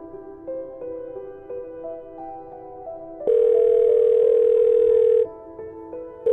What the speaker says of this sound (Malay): Telefon abah.